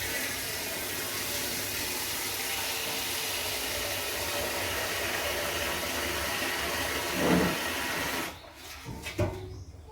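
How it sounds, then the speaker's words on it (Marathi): Continuous hiss of running water splashing steadily for several seconds while vegetables are washed, then stopping abruptly, followed by a few faint clatters. "अजून एक पाण्याने धुवून घेते."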